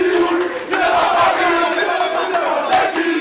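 A huge, unruly crowd of young fans at a rap artist's signing session in Brussels roars and shouts continuously, loud and close, with overlapping voices and no clear single speaker.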